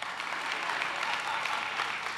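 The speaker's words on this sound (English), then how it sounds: "Clap time, clap." A church congregation claps together in sustained, dense applause that fills the room evenly throughout.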